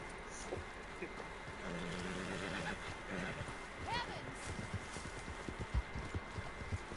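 Horse hooves clip-clopping in a video game, a steady run of light, quick hoofbeats mixed with game ambience while a voice talks over it.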